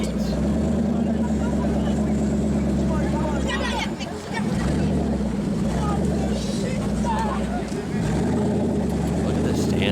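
Engine of a rare Citroen car running steadily with a deep, continuous rumble throughout, with a brief dip near the middle, under background chatter and voices.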